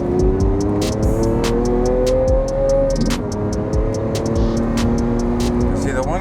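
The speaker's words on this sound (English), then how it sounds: "For a factory exhaust system, it actually sounds sick. A lot of snap, crackle, and pop." Factory exhaust on a Lamborghini Aventador S drones steadily up close, with a string of sharp pops and crackles cutting through at irregular intervals.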